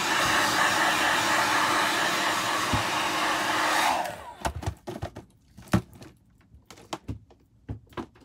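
A hair dryer blows steadily and loudly at close range for about four seconds, then cuts off, leaving scattered clicks and handling knocks in a quiet room.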